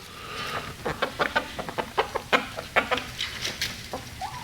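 Chickens cluck nearby in a quick, bouncy series of short clucks, with a bit of background noise.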